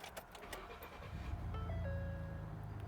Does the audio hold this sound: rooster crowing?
no